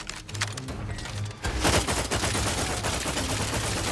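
Video game gunfire in Outer Worlds 2: a quieter stretch with some tonal game sounds, then a loud sustained burst of rapid shots that carries on steadily to the end, close and without talk.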